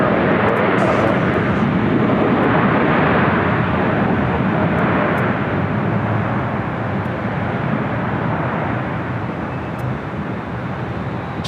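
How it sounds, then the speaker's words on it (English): A China Airlines Boeing 777 freighter touches down on runway 25L at Los Angeles airport, a loud, broad jet roar that holds steady and then eases slightly as the aircraft rolls out. "China 7 cargo, 777 freighter touching down there on the south side, 25 left."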